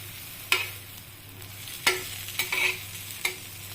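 Pav bread toasting in butter on a pan for cheese masala pav, a low sizzle broken by a few sharp spatula scrapes and taps, heard close with no speech.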